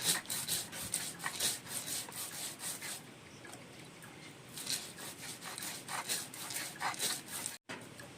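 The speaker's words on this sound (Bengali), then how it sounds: "আমার কাছে কালো শসা আছে, আমি কালো শসাটা বেটে নিচ্ছি।" Black cucumber is ground by hand on a traditional grinding stone, a rhythmic scraping rub repeating in quick strokes with a short pause midway and one brief gap near the end.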